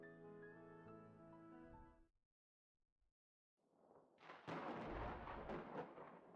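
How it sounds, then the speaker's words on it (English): Thunder in a visual novel game scene: after sustained music fades to near silence, a low rumble builds and breaks into a loud, broad crashing roll that continues to the end. "thunder rumbles outside"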